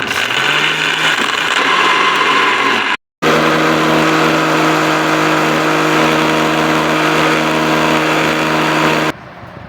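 Mixer grinder blending egg and oil into homemade mayonnaise, a steady loud motor whine running in two bursts separated by a brief stop, with no voices.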